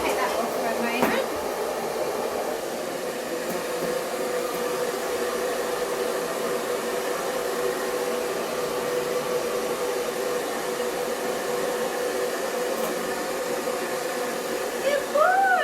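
A grooming dryer blows air steadily on a dog, a loud continuous whooshing roar lasting the whole stretch with faint voice sounds underneath.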